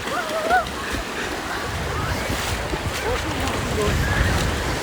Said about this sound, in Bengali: যে ঢেউগুলো দেখতে পাচ্ছ অনেক বড় বড় ঢেউ আসছে